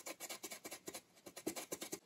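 Brush bristles scrub an arcade circuit board from a Tron cabinet restoration, a rapid, steady back-and-forth scratching in quick regular strokes, close and fairly quiet, with no voices.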